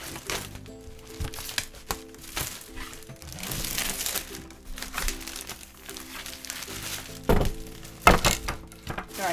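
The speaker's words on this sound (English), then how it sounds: "Bang the camera, I didn't mean to." Plastic wrapping crinkles and crumples while it is pulled off a board, broken by several dull thunks of the camera being bumped, with one louder knock near the end, all close up.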